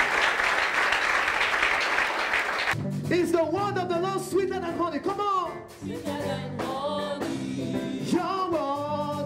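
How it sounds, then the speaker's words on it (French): Church congregation clapping hands during worship, a dense wash of applause for the first few seconds, then singing voices with rhythmic clapping continuing beneath. "Clap hands to Jesus."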